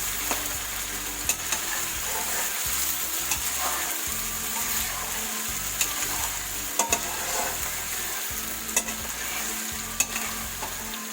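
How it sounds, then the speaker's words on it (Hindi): Continuous sizzle of chicken frying with ginger garlic paste, with periodic stirring scrapes and light taps of a utensil against the pan. "अदरक और लहसुन डालने के बाद भी थोड़ी देर तक हम इसे भून लेते हैं।"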